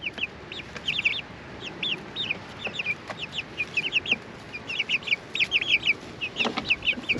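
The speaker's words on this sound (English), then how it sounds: "This is how we move our little chicks around when they're babies or when they're small." Small baby chicks peep in a constant high-pitched chorus of overlapping chirps as they file out of a pet carrier, close and lively with no talking.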